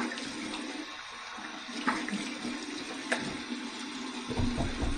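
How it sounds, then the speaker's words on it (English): Cold water runs steadily from a bathroom tap for a face rinse after a shave, a soft continuous hiss with faint splashes toward the end. "I'm flipping it to the cold water side. Waiting for the cold water. There's the cold water."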